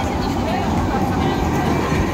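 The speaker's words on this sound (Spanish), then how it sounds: "¿Este que es tranvía o metrobús? Tranvía." A tram rolls past on a street in Istanbul at night, a loud, continuous low rumble and rattle of wheels on rail that stays close and steady throughout.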